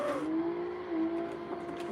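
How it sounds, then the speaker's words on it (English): A drift car engine in a sim racing game drops in pitch as revs fall off, then holds a steady droning hum, fairly loud and continuous. "I'm losing RPMs. So let's kick it down to second."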